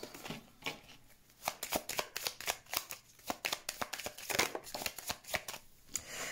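Tarot cards are shuffled by hand before a reading, a close run of quick riffling flicks and soft slaps repeating steadily for several seconds with no talking.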